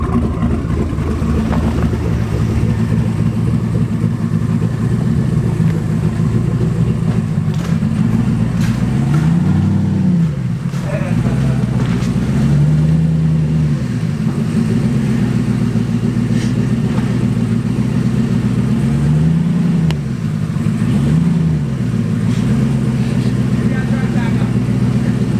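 A car fitted with eBay turbos drives under its own power onto a trailer in snow, giving a loud, continuous low engine rumble whose pitch rises and falls in a few short revs.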